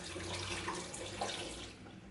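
Film developing chemistry for black-and-white film is poured back into its container, a soft, continuous trickle of liquid close by, with no voices.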